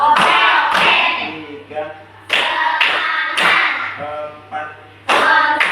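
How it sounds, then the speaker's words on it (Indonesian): A teacher leads a class in rhythmic concentration claps, sharp bursts of group hand clapping in short sets, alternating with spoken counting between rounds. "Tepuk konsentrasi ya."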